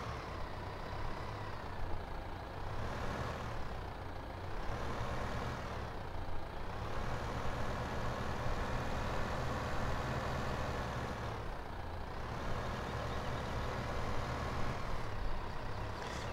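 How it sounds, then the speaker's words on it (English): A tractor's engine in Farming Simulator 15 drones steadily as it reverses trailers, with its low hum swelling and easing in slow waves and no voices heard. "I'm trying to back the trailers into together, but it's just not going to happen."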